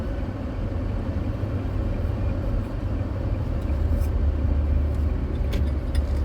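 Steady road noise from inside a moving car in Sint Maarten, with a constant low engine and tyre rumble and passing traffic blending into a continuous drone.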